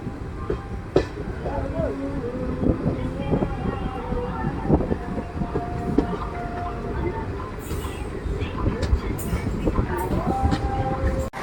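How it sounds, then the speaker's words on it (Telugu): Sai Nagar Shirdi Express pulling into platform 2 at Mahabubabad railway station: a continuous rumble of the moving train with clanks and tonal squeals, while people's voices sound throughout. "మన ట్రైన్ అండి మహబూబాబాద్ రైల్వే స్టేషన్కి అయితే వచ్చేసిందండి"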